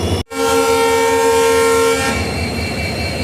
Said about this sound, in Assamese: নিৰ্ধাৰিত সময়তকৈ 1 মিনিট লেটকৈ ওলাইছে ট্ৰেইনখন